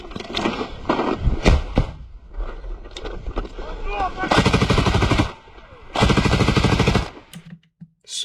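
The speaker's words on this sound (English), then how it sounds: "Somali firing a PKM like that" A PKM machine gun fires long sustained bursts of rapid, loud shots in a fierce gunfight, each burst lasting about a second or more. Between and under the bursts, voices shout excitedly.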